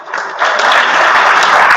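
Sustained applause from an audience at a tribute ceremony for Asturian international handball players, rising after a brief start and holding steady and fairly loud throughout.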